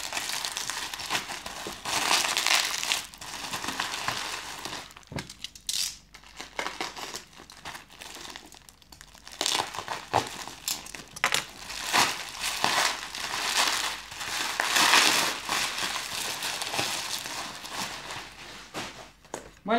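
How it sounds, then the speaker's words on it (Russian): A plastic bag being cut open and unwrapped while unboxing a 386 laptop, close crinkling and rustling in irregular bursts with brief quiet gaps, no talk. "Прорежем пакетик."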